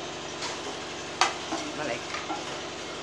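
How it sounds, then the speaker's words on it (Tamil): Curry leaves fry in a pan while sambar masala powder is being made. A low, steady crackle runs beneath a few sharp stirring scrapes and clicks. "இது கொஞ்சம் காயறது வரைக்கும், நல்லா மடங்கி வர்றது வரைக்கும் இலை ஃப்ரை பண்ணிக்கணும்"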